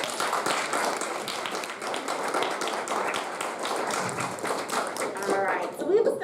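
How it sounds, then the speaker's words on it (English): A smaller audience claps at a student and alumni talks event, a lively patter of individual hands at moderate loudness that continues throughout, with a voice emerging briefly at the end. "Let's give all of the students who participated today and all of our alumni another round of applause."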